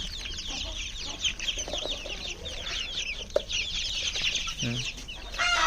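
A flock of about forty chickens, small birds among them, clucking and chattering continuously at close range, with a brief thump and a louder burst of activity toward the end.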